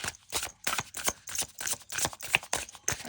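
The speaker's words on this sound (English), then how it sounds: "One more shuffle." A tarot card deck is shuffled quickly in a series of sharp, papery riffles and flicks at an even rhythm, close and clear, with no talking.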